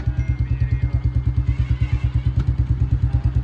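A Royal Enfield Bullet motorcycle engine thumps along at a steady, even rhythm, loud and close, with a slight clatter on top.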